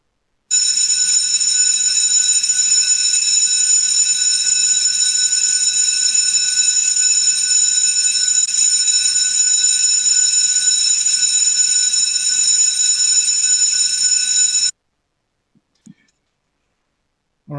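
A loud electronic bell or alarm rings continuously for about fourteen seconds in a city council meeting chamber, steady and unbroken, then cuts off abruptly, followed by a couple of faint clicks.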